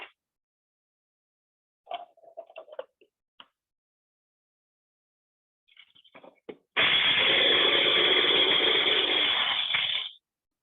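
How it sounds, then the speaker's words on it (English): Unsalted, unroasted cashews are ground into flour in a blender. A few short rattling pulses come first, then a loud, steady grinding whir runs for about three and a half seconds before stopping, with no talking. "I'm making my own cashew flour, so it's unsalted, unroasted cashews. I'm just gonna grind them."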